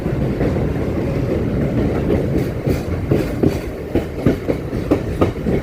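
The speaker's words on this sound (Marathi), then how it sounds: "सगळ्या घरांच्या वरून आपली लोकल ट्रेन जाते" A Goregaon–Panvel harbour line local train crosses a long bridge above houses, its wheels beating a steady clickety-clack over a continuous low rumble, close and loud throughout.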